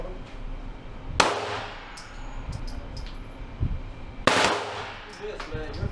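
Machine gun fired in short bursts on an indoor gun store range, two sharp loud volleys a few seconds apart with clanging casings and ringing echoes between them.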